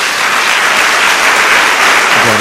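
Loud, dense applause from a church congregation fills the whole stretch. It is a steady, close roar of many hands clapping, with no talking over it.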